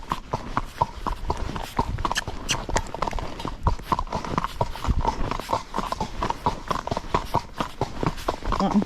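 Tennessee Walking Horse foxtrotting, its hoofbeats a quick, even four-beat clip-clop close by that carries steadily throughout, with faint background noise.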